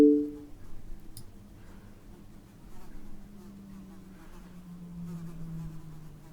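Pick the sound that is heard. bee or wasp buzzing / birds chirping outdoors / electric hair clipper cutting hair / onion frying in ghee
bee or wasp buzzing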